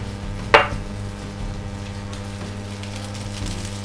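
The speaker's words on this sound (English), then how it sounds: "Then I'm going to add my onions." Onions dropped into a hot wok while cooking beef chow fun make a single sharp clatter near the start, then fade into a steady low kitchen hum with faint scraping.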